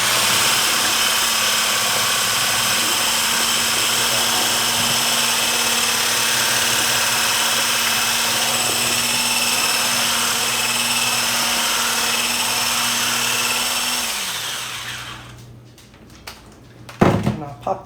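An electric hand mixer fitted with a whisk attachment runs steadily at close range for about fourteen seconds, a constant motorized whir, then winds down and stops, followed by a few clattering knocks.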